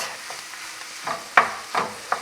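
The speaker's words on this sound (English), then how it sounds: "And you want to saute it bello, almost brown it nice, brown it nice." Italian sausage crumbled and browning in a pan, with a few quiet stirring scrapes and soft sizzling bursts under a faint steady background, no talking.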